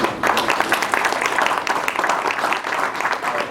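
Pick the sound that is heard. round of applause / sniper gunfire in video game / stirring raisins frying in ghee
round of applause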